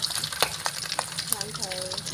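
Fish frying in a pan with ginger and soya bean gives a steady, close sizzle, with occasional scrapes and stirring taps and a faint voice in the background.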